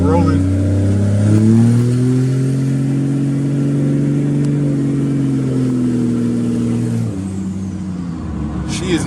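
A car fitted with an S467 turbo accelerates hard, a deep, loud engine drone climbing steadily for several seconds before easing off, heard from inside with a voice speaking over it.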